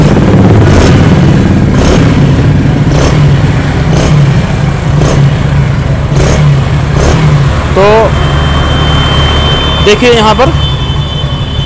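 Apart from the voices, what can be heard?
Hero Splendor motorcycle engine running after fitting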